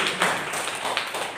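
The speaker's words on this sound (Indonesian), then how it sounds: "Sekali lagi yang mengerti berikan tepuk tangan buat Tuhan Yesus" Church congregation clapping in praise of Jesus during a sermon: a steady, loud patter of many hands close by, with brief sharper claps standing out, and no talk over it.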